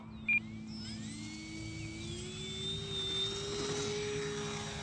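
A Cirrus SR22T single-engine airplane climbing out after takeoff: a steady, fairly loud engine drone whose pitch rises slightly as it climbs, continuous throughout with no talking.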